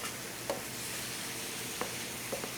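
Mango chutney and lime juice sizzle in a hot pan, a soft, steady frying hiss with a few light clinks of stirring, fairly quiet and without speech.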